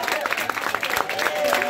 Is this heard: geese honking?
no